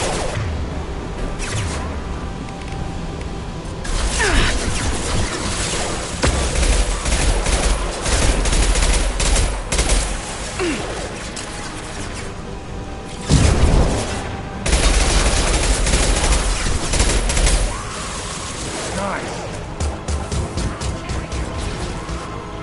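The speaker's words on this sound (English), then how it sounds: "Firing concussive shots!" Concussive shots and heavy gunfire in the video game Mass Effect 2 play as loud, dense bursts of blasts and booms that pause briefly and then resume across a long battle.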